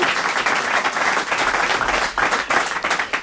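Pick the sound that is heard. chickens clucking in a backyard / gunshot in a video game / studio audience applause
studio audience applause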